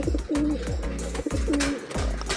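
A racing pigeon in a loft gives repeated soft, low cooing calls in a steady rhythm, close by, with faint background noise and no talking.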